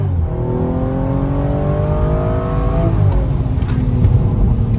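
A BMW 135i F20 with an inline six-cylinder engine accelerates hard from inside the car, a loud rising roar that climbs through the revs, briefly drops at a gear change, then pulls again.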